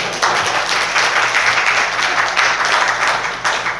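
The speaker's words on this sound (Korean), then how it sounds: "힘차게 대답해 주신 우리 청 집사님께 박수" Church congregation at a Korean Sunday service applauding a deacon, loud, steady clapping filling the room throughout.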